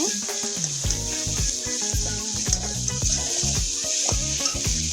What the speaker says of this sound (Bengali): একটু ভালো করে কষানোর জন্য টমেটোটাকে একটু ভাজা করে নিয়ে